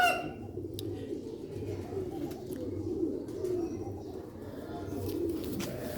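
Breeding pigeons for sale coo in low, rolling phrases one after another, fairly close, with a few brief higher chirps and a faint background hum, no talk.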